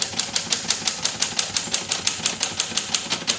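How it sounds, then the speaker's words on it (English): A manual typewriter being typed on in steady, rapid strokes, each key strike a crisp clack repeating about four to five times a second, close and clear. "I'm curious on if it would react differently typing rather than sliding the carriage."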